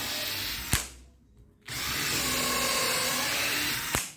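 A power drill bores holes for 45 mm screws in furniture, a close, loud sustained whine broken by a short pause, with sharp clicks as the trigger starts and stops.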